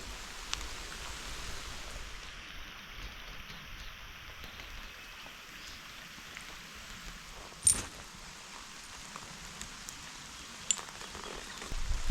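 Steady rain falls on a campsite as a tent is set up, a soft, even hiss with a few louder drops and taps, fairly faint and heard alone without talk.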